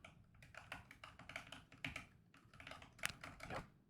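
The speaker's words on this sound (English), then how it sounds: "I have gotten a new keyboard. So when I use the number pad to input the numbers," Quick, quiet clicks of a new keyboard's number pad keys being pressed in an uneven rhythm, close by and alone with no talking.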